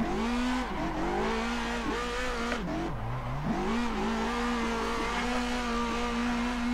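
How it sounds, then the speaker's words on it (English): Car doing a burnout on a gravel track in the Assetto Corsa sim racing game, engine holding a loud high rev with a brief dip and recovery, over a continuous scrabble of spinning tires. "Let's just do a little burnout."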